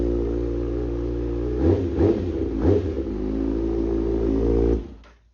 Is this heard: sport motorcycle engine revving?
yes